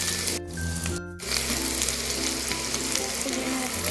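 A large chopped onion sizzles in hot oil with tempered spices in a pan, a steady close frying hiss with brief stirring noises early on.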